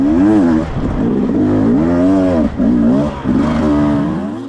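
Dirt bike engine revving loudly on a muddy race track as the rider works the throttle, rising and falling in repeated surges, very close and dominant with no talking.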